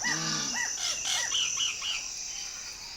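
Birds in the Amazon rainforest give a quick series of varied chirps and whistled calls, fairly clear against a steady high insect hum, with no talking.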